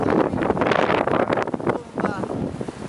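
Strong blizzard wind on a beach in Lynn buffets the microphone with loud, gusty rumbling roar throughout, and voices can be heard over it.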